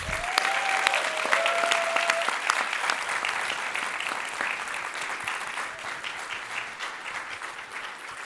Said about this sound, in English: How about a round of applause for our presenters?